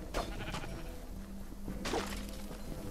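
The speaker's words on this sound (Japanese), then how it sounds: "あ、羊いる。" Minecraft Dungeons sheep bleat twice in quick succession, with a second louder bleat near the end, over steady game background noise.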